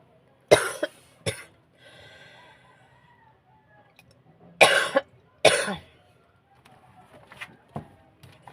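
A person coughs in several sharp, loud bursts: two quick ones, then a pause with faint background sounds, then two more strong coughs close together, with softer noises trailing after.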